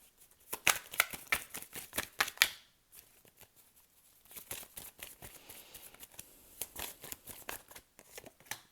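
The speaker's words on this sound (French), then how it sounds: "Je vais réarranger mes cartes après" Tarot cards being shuffled and rearranged by hand, giving quick papery flicks and riffles in bursts, with a short pause midway before more brushing and slapping of cards.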